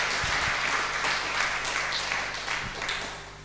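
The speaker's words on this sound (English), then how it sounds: "I think a round of applause." Applause from an audience, a steady wash of clapping hands that holds for a few seconds and then begins to fade.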